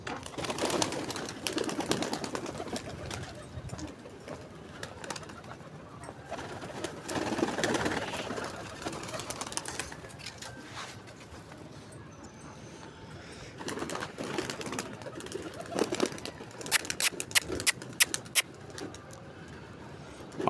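Pigeons on a rooftop loft coo and stir in a steady, moderately quiet bird chorus, with occasional fluttering and clicks rising toward the end; no one talks.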